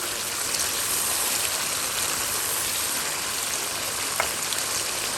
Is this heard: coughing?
no